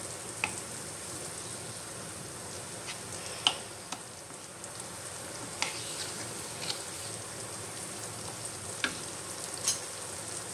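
Cumin seeds sizzle in melted butter in a pan for pav bhaji. A quiet, steady frying hiss runs throughout, broken by sparse sharp pops and ticks as the seeds crackle.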